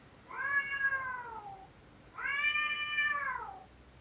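Two long, drawn-out yowls from cats mating, each a wavering harmonic wail that bends downward at the end, close and clear over a faint steady hum with no talking.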